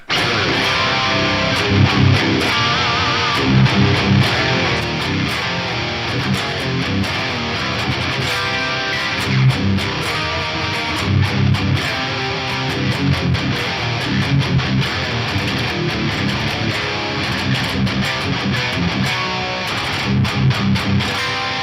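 A heavy, distorted electric guitar riff from a Hamer Standard Explorer-style guitar in drop C tuning, chugging palm-muted notes with accents, loud and steady throughout with no talking.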